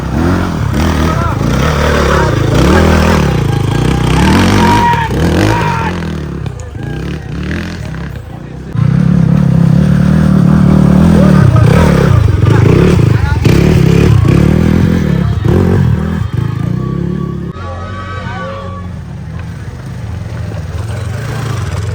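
A CX 300 enduro motorcycle engine revs and idles at a Pokhara enduro race track, loud and close, surging louder midway with clattering and people talking over it.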